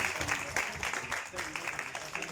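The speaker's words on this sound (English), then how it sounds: "Clap for them, man." Audience clapping at a football cup final, a faint, brief patter of many hands with voices talking over it.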